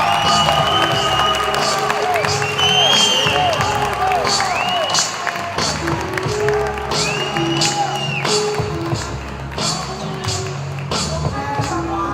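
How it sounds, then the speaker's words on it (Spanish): Crowd at the El Sur Vive Fest 2017 concert cheering and applauding, with whoops and whistles rising over a dense roar of clapping that holds steady throughout, mixed with lingering music and shouting voices. "Y un aplauso para ustedes"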